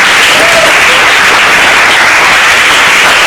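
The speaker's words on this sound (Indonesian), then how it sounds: "Andika, tepuk tangan untuk Andika." A crowd applauds steadily throughout, a dense, continuous wash of clapping.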